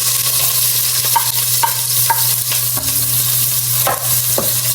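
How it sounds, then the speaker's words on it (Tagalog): Onions, cooked together with garlic, sauté in a pan for a provincial sinuam dish. A steady loud sizzle runs throughout, broken by repeated scraping stirs of a spoon against the pan, with no talking. "ako po ay magigisa na ng sibuyas"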